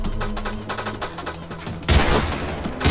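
Gunfire in the Criminality video game, a burst of shots cracking close and loud, with denser fire starting midway and building toward the end.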